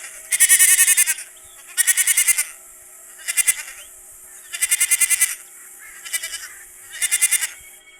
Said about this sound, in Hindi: सोना चुड़ैल के पास बहुत सारी बकरियां थीं।